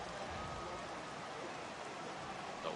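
Steady, dense rain pours down during a ballgame in MLB The Show 18, a constant broadband hiss that stays even and fairly loud throughout, with no voices over it.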